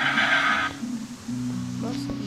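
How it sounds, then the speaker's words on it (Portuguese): A tameable horse in Minecraft Pocket Edition 0.15.0 gives a single bright game whinny at the start, followed by a few quieter game sound effects over a steady low background tone. "eu tenho um cavalo que é domável"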